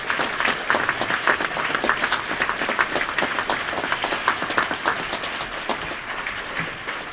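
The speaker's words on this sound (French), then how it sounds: "je vous demande d'applaudir très fort Ryan Stephen Harris et Kevin James Barry" Dense, steady applause from a cinema audience welcoming the film's guests at a Paris International Film Festival Q&A, a continuous wash of many hands clapping at an even level throughout.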